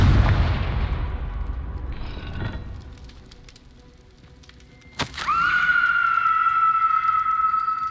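In the Hogwarts Legacy video game, the Confringo fire spell goes off as a sudden sharp blast midway through, followed by a sustained ringing tone over a low ambient rumble.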